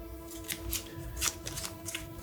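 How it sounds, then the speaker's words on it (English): Magic: The Gathering playing cards are shuffled by hand during a Commander game, giving a few soft riffling rustles and flicks, close and quiet against a faint steady hum. "Shuffle these guys up."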